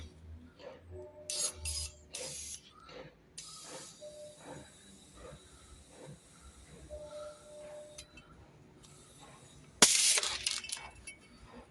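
Compressed air from a cleaning gun blasts through a failed diesel particulate filter on a Ford Transit Custom, with several short hissing bursts and then a loud sustained rush of air, close by amid clanks and handling noises.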